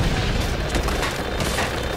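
A rocket-propelled grenade blast in the shooter game Call of Duty 4, a loud, dense boom of noisy rumble filling the whole two seconds with no clear separate bursts.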